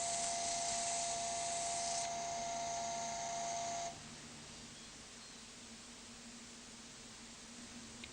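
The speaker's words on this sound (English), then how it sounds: "Now switch the lathe back on, sand and finish." A wood lathe spins a turned cup made on an eccentric chuck while it is sanded, giving a steady hiss and hum that is loud at first, then drops to a quieter, even drone partway through.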